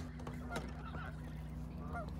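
Geese honk near a sailboat moored at Poets Cove on Pender Island, British Columbia, a few faint, nasal calls over a constant low hum, with no talking.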